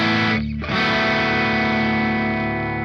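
Distorted electric guitar chord through a Logic Pro amp simulator, struck loud and close then ringing out with gritty, saturated sustain that slowly decays, with no talk.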